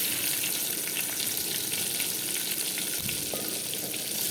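Chopped onion sizzles in hot oil in a pan for chicken masala biryani, a steady, dense frying hiss heard close up with a brief stirring clatter partway through.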